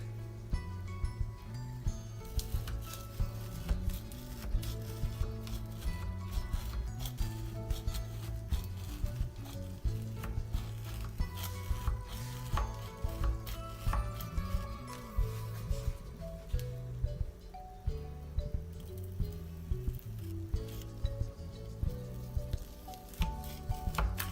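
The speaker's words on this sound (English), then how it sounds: "we're going to cut a fang design out, starting from the corner up here" A knife cuts a fang shape into a stacked, frosted Rice Krispies cake, making continuous crunchy, crackling and squishing sounds up close with rhythmic sawing strokes.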